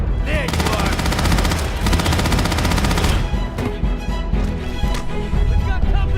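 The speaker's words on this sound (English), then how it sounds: "Opening fire!" Rapid automatic gunfire from a Starfield firefight rattles in loud sustained bursts with brief pauses, overlapping voices and other combat noise.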